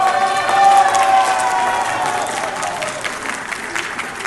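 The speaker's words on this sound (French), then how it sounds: "que je prie que vous applaudissez." Audience applause with some cheering at a gathering honouring a speaker's guest, loud at first and slowly fading, with a sustained voice or tone audible over the clapping early on.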